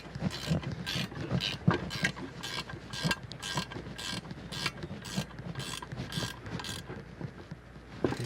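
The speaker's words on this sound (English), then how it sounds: "I'm gonna get that one tightened up." A nut being tightened onto a bolt while assembling a gridder bed dibbler, heard as a steady run of close ratcheting clicks and metal mechanism noise, repeated in short bursts without talk.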